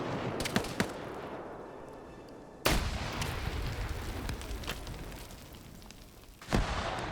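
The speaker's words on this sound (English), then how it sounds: "Grenade goes out. Really great drop on that grenade." Military video game combat with grenades and gunfire: sharp blasts and scattered shots punctuate a dense rumbling battle backdrop, with two loud impacts standing out.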